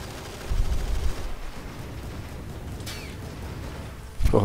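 Battlefield gunfire and explosions in the Men of War: Assault Squad 2 strategy game, with grenades landing near water; low rumbling blasts come and go, a brief crackle sounds midway, and a sharp, loud burst hits near the end.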